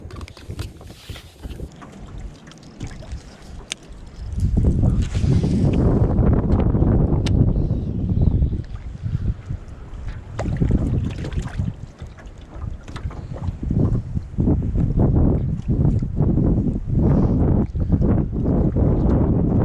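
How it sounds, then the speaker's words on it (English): Wind gusts roar across the microphone on a lake while bass fishing from a boat in winter, a loud rumbling buffet rising and falling unevenly with faint water and hull knocks beneath. "The wind usually blows."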